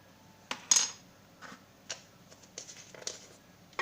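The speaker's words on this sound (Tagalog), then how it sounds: "Mix lang po natin lahat yan." A utensil clinks and taps against a bowl while kutsinta batter with baking soda and salt is mixed, giving sparse, irregular, faint strikes.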